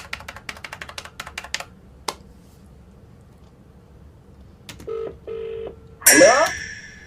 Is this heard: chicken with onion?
no